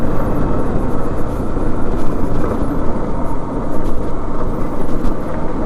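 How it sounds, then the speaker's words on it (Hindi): A motorbike engine roars steadily in third gear while the bike climbs a rough hill road toward Parasnath Hill in Jharkhand. The loud, constant drone comes with wind and road rumble, and there is no talk. "शायद हम थर्ड गियर पे राइड कर रहे थे इसलिए गाड़ी साउंड कर रहा था इतना।"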